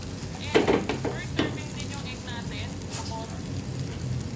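Sizzling of pork frying in a pan for sisig, a steady crackle with a few louder spatters near the start, close by.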